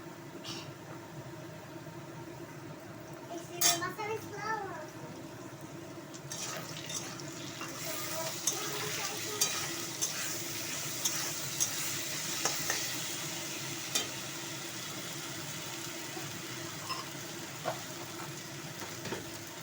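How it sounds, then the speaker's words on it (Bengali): Potatoes and onions fry in oil with a ground paste of onion, ginger, garlic and chili, a steady quiet sizzle with a stir and clink near the start and occasional faint scrapes. "আলু ভাজা হয়ে গেছে সাথে পেঁয়াজগুলো ভাজা হয়ে গেছে এবার আমি মশলা দিয়ে দিলাম"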